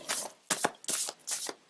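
A deck of cards is shuffled, with four quick, crisp riffling bursts separated by brief pauses, close and clear with no voices.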